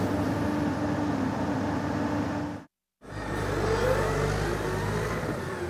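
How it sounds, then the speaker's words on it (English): A Komatsu PC200-8 hydraulic excavator's diesel engine revs up to maximum speed, a loud, steady mechanical drone broken by one brief gap before rising and holding high again. "the PC200-8 increases engine speed to maximum in preparation for the next operation"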